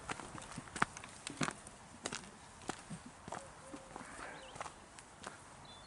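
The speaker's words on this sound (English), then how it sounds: "dirty great big horse who's on the 3:30 at Fontwell or Goodwood" A big horse's hooves clop along a woodland path near an old fort, a loose series of irregular, moderately faint steps with soft outdoor background.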